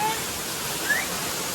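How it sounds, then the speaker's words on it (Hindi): Standing behind a waterfall in Triglav National Park, Slovenia, gives a steady, dense roar of falling water up close for a brief moment. "तो भाई फाइनली हम वाटरफॉल के पीछे आ गए हैं."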